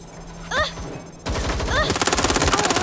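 Rapid automatic gunfire in Watch Dogs Legion, loud and close, firing as a fast rhythmic burst that gets denser toward the end, with a brief voice and electronic tones mixed in.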